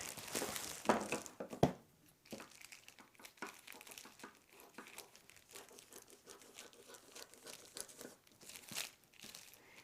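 Plastic trash bag crinkles and crackles up close as a head hole is cut into its top, with a burst of sharp rustling at the start and then softer, irregular crinkling.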